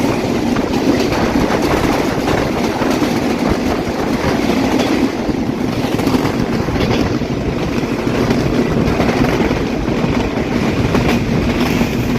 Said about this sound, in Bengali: এবারে আমাদের ঢাকা থেকে শেষা খুলনা অভিমুখী সুন্দরবন এক্সপ্রেসের সাথে দেখা হবে